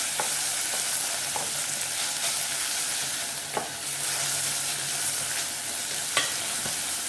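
Chili, onion and garlic sizzle steadily in hot oil in a pan while cooking a tinfish samoosa filling, a continuous close frying hiss broken by a few soft clinks of stirring.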